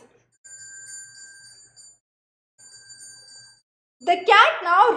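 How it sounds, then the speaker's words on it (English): Two separate bright rings of a bell, each lasting about a second with a clear sustained tone, used as a signal cue in a cat conditioning demonstration; a person starts speaking right after. "Now 2 bells."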